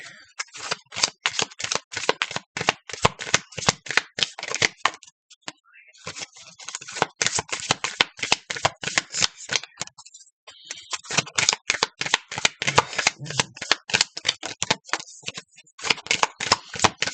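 Reading cards being shuffled in rapid, crisp riffling bursts with brief pauses between rounds, close and fairly loud.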